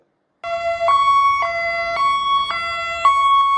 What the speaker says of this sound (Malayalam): 4ാമത്തത് high and low pitch siren.